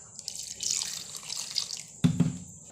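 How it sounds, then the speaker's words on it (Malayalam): Water streams into a blender jar holding gooseberries for juice, a steady pouring hiss that ends with a few splashes and a clunk near the end. "ആവശ്യത്തിന് നമ്മൾ വെള്ളം ഒഴിക്കുക."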